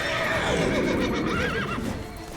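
A horse in The Witcher 3: Wild Hunt – Blood and Wine neighs loudly and close, a long wavering whinny lasting most of two seconds over steady game ambience.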